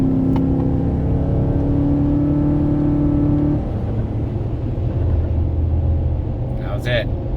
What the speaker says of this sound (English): Don't really hear much other than the cold air intake.